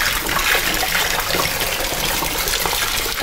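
Boxed wine pours steadily from the spout in a loud, continuous liquid gush that runs throughout, close up with no talking.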